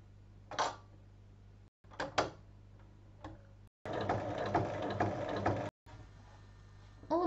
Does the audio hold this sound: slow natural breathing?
no